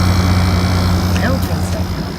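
Frigidaire 8,000 BTU window air conditioner running rough and unhealthy, a steady loud low hum with strong tonal drone and broadband whir throughout, with a voice faintly present.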